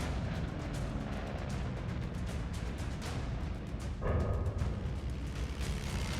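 WWII American bombers' explosives hit Kwajalein Harbor in a loud, continuous, heavy rumble packed with repeated blasts, one stronger burst near the middle, with no talk.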